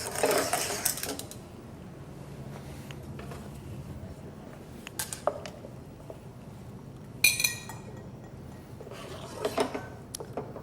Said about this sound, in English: So I'm whisking it